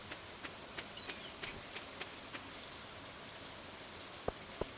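Rain in Stardew Valley falls as a soft steady patter, a constant hiss with scattered faint drips and two sharper tapping ticks near the end, with no voices over it.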